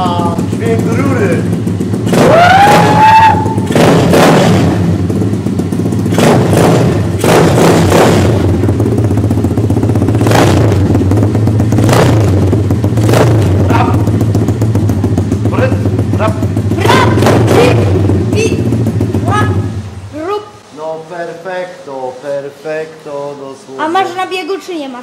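A motorcycle engine idles loudly and close through its exhaust pipe, with a deep steady rumble and several sharp bursts. It cuts off near the end, when people start talking.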